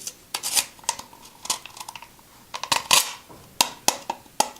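Scissors are repeatedly drawn through an at-home scissor sharpener, giving a series of close, sharp metallic scraping strokes in irregular bursts with brief pauses between them.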